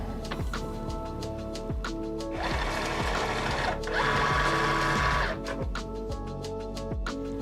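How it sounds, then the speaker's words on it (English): A MOMENTO cutting machine whirs and ticks with steady mechanical pulses as it loads the cutting mat through its pinch wheels, with a louder motor drone swelling twice during the feed. "I'm going to push it up against the pinch wheel and hit the load mat button."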